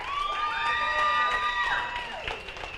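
An audience at a live show claps and cheers with whoops and high shouts over steady applause, loud and close, the noise fading toward the end.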